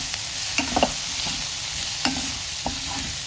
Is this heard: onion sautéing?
yes